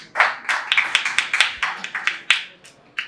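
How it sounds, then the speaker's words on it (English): A conference audience at a blockchain event claps, giving sharp, close, irregular handclaps over about three seconds, sounding like a fairly small group. "warm welcome and yeah, applause for Daud for hosting."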